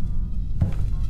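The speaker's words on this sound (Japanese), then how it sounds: "リアルな、ハエ。" A realistic housefly buzzes steadily in a dark room in the Bloody Room horror video game, a close, continuous low drone that swells briefly midway.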